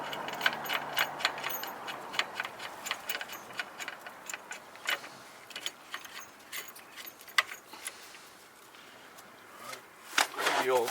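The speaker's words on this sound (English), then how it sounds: "The old torque wrench." A torque wrench ratcheting during a Rotora big brake kit install on a 2016 Subaru WRX, giving rapid, irregular metallic clicks and ticks close by that speed up toward the end, with some voice in the background.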